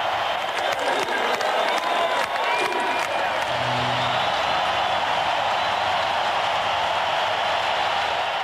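A stadium crowd at a 1995 concert cheers and applauds the drummer in a dense, continuous roar with whoops, loud and unbroken throughout.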